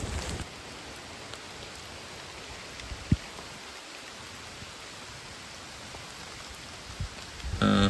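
Steady rain falls through a dim forest of tall trees on the trek to Agasthyarkoodam, an even wash of drops with a couple of sharp knocks and no one speaking.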